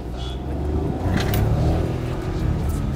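Hyundai Venue SX iMT, a 2021 clutchless-manual SUV, accelerating with a steady low engine drone and road rumble heard from inside the cabin, swelling slightly mid-way.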